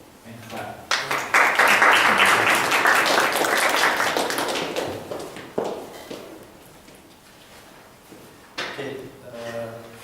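Members of a Toastmasters club meeting in Almaty clap for a speaker. A burst of applause swells and then tapers off, with scattered claps and some voices afterward.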